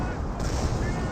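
Werfer rocket artillery barrage in a Company of Heroes match, a continuous rumbling roar of distant explosions that rolls steadily through the whole moment with no clear separate blasts.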